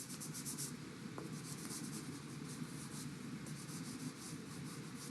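Soft, steady rubbing and scraping of colored pastel being blended into a landscape drawing on paper, a continuous close friction texture with no talking.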